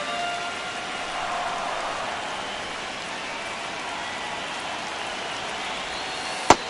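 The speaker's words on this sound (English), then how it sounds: "the field's not going to be able to hold up if the rain gets any worse than this" Heavy rain pours onto a baseball field as a dense, even hiss that holds steady throughout, ending with a single sharp tap.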